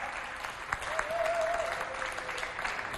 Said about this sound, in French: Si vous avez vu le film, applaudissez pour Bria qui est dans le public.